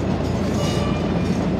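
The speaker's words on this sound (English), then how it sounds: "I think this is the train that goes to Kisumu every weekend." A passenger train bound for Kisumu rumbles past close by, a steady, loud roll of wheels and railcars with faint clickety-clack, heard alone without voices.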